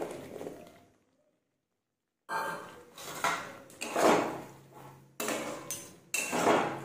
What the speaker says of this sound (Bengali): এরপর দেব কেটে রাখা ক্যাপসিকাম